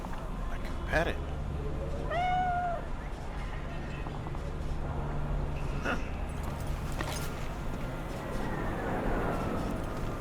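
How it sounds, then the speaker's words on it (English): Cat meowing in Cyberpunk 2077, a few short rising meows near the start, with people talking over a low game ambience. "A kitty."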